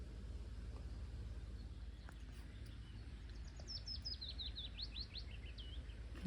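A bird sings beside a foggy fjord on the Norwegian west coast, a brief run of high chirping notes rising over a constant low droning hum in the background.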